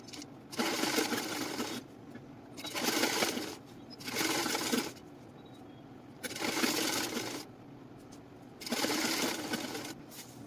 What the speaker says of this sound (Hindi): अब आप ऊपर से बराबर में रखते हुए साइड्स की सिलाई दोनों साइड पे लगा लेंगे